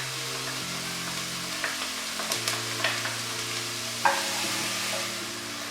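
Steady sizzling of onions frying in a hot pan for a lamb and potato curry, a constant hiss with occasional scrapes of stirring, close by and without talk.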